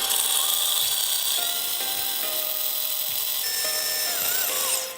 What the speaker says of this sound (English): beat the egg whites until they're fluffy. So we're going to beat this until it's nice and fluffy on high speed